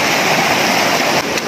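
A river flows in a steady, close rush of water, loud and continuous with no break, with no voices over it.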